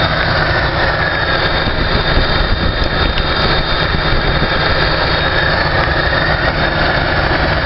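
A car engine runs at a steady idle, loud and close, with a constant rumble and a thin whining tone on top.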